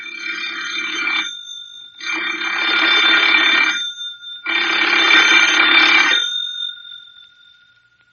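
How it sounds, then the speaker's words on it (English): An old-fashioned telephone bell rings loudly in three long bursts with short pauses between them, then falls silent, with no voices over it. "the telephone rings"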